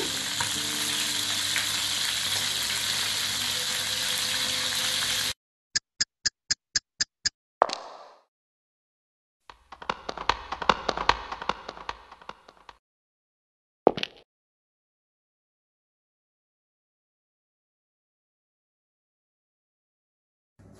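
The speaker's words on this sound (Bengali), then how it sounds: "এটা ভাজা হচ্ছে আর আমি পেঁয়াজ কাটছি" Food sizzling in hot oil for a shahi chicken pulao, a steady loud frying hiss that cuts off, followed by sharp clicks and brief bursts of further frying with silent gaps.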